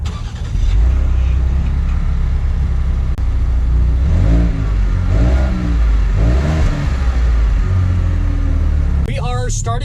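A 2019 Ford Edge ST SUV pulls away on a drive in Utah, a steady low engine drone rising through acceleration from inside the cabin, with a person speaking over it near the end.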